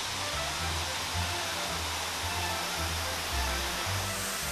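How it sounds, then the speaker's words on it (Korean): Steady, dense rushing of an emerald-coloured waterfall on a mountain trail in Thailand, a continuous broadband roar of falling water that stays loud and even throughout with no voices. "걷는 내내 폭포 소리가 밀려오고 흘러갔습니다."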